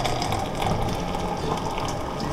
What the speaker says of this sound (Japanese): お湯を入れていきましょう。